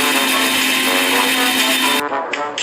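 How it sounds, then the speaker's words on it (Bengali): A mixer grinder whirs loudly and steadily as it grinds poppy seeds with chopped onion, a dense continuous motor roar that cuts off abruptly near the end, leaving a brief quieter tail. "মিক্সিতে ঢেলে দিচ্ছি বেটে নেওয়ার জন্য পোস্তটা"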